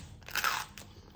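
Someone bites into a crunchy vegan sweet potato cookie: one sharp, close crunch followed by a brief crackle, with no talking.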